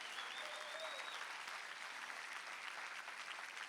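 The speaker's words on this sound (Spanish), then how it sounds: "Alguien dale un aplauso al Rey." A church congregation claps in loud, sustained applause that fills the room, dense and steady throughout.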